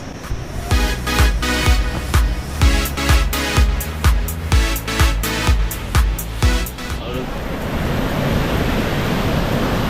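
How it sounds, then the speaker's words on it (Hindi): Manjakani waterfall in Sikkim, dropping about 100 feet, gives a steady roar of rushing water. A rhythmic music track plays over it at first, then stops, leaving the water's broad, even noise alone. "यहाँ का वाटरफॉल बहुत तेज है।"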